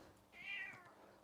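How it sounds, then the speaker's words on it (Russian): A street cat coming back from a walk gives a single drawn-out meow that rises and fades, heard alone against a quiet background. "Кот идет с прогулок, постоянно орет на всю улицу."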